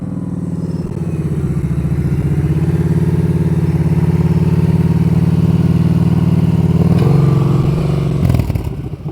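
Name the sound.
motorcycle during slow speed riding practice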